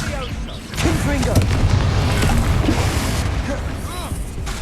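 Confringo fire spell blasts crack through a Hogwarts Legacy video game battle, with booming impacts and effects running steadily throughout over game character voices.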